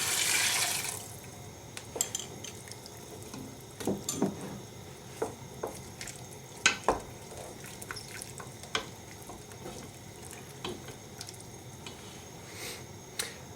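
Vegetable stock poured into a pan of leeks and potatoes for leek and potato soup, a steady wet bubbling and squishing with scattered pops and splashes, close and fairly quiet, with no talking.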